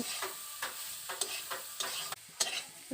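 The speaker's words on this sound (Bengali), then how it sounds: "এবার সয়াবিন দানাগুলোকে আমি ভালো করে তেলের মধ্যে ভেজে নেব" Soaked soybean chunks fry in hot oil while being stirred: a soft, faint sizzle broken by irregular scraping and clinking strokes of the spoon.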